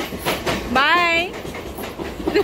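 A Mumbai local train runs along with a steady rumble and rhythmic clatter, while people talk over it and a rising wavering tone cuts in briefly.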